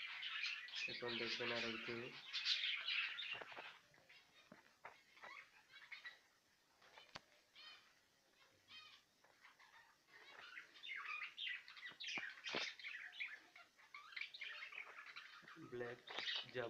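Black Java sparrows chirping in cages, a quiet scatter of repeated high tweets and short calls, some clustered and some spaced out, close by, with someone talking in Bengali between them.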